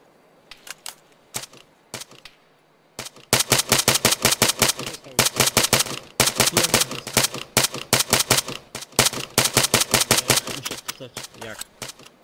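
Video game gunfire crackles: first a few scattered single shots, then loud rapid bursts of automatic fire in quick repeated volleys. It stays close and sharp throughout.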